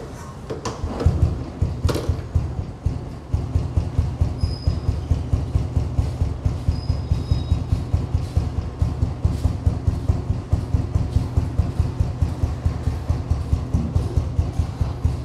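A Royal Enfield Standard 350 single-cylinder engine idling nearby, a loud steady thumping beat with an even mechanical rhythm, a few clanks at the start.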